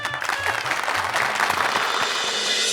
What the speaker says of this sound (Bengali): ওর জন্য একটা জোরে হাততালি হয়ে যাক